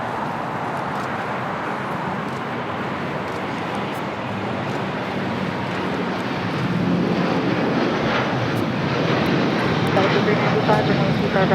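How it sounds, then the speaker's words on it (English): An El Al Boeing 787-9 Dreamliner takes off at LAX on its run to Tel Aviv, a steady broadband jet roar that swells louder in the latter half, with voices talking over it. "This is El Al, Flight 6, taking off to Tel Aviv, Israel, on the 787-9 Dreamliner."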